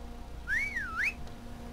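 A single rising-falling whistle summons a horse in Skyrim, played through a whistle mod: one clear, fairly quiet swooping call that lasts about half a second over a faint background hum.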